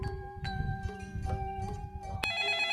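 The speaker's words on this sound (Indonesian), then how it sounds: "Itu nelfon lagi." A mobile phone rings with an electronic ringtone for an incoming call, its melodic tones repeating in an even rhythm with a sharp click near the end, over a low indoor background.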